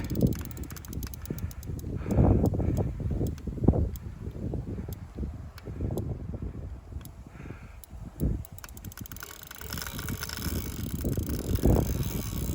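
A Shimano Big Baitrunner XT-B 14000 LC spinning fishing reel being turned by hand, giving a steady, close mechanical whirring with fine rapid clicking and a few louder knocks throughout, with no voices.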